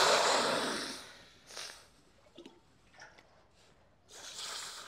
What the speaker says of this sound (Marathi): आता पाणी टाकून घेऊया.